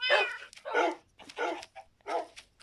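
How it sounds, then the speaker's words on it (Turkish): Dog barking in a video game, five sharp, close barks in an uneven rhythm with silent gaps between them. "Bir tane köpeğimi aldım yanıma. En sevdiğim köpek."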